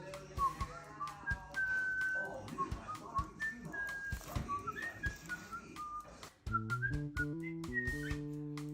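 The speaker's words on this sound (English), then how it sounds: "Start whistling." A person whistles a series of short melodic phrases to a pet parrot, with soft clicks and small noises around, then a steadier, stronger repeated whistled tune toward the end.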